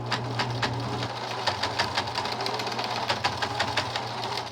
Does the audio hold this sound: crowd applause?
no